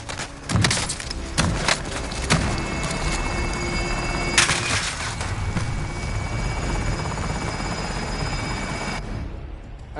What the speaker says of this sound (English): Extraction helo heading out